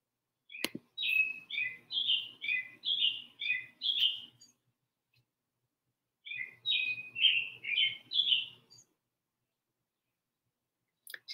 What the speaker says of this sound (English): I ought to name that cardinal because it chirps in the background on pretty much every Zoom meeting